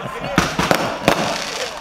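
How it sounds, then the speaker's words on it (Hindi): A string of about 80 firecrackers set off together in a rapid series of sharp cracks and pops, close and loud, with people talking over the bangs. "80 पटाखे हैं एक साथ"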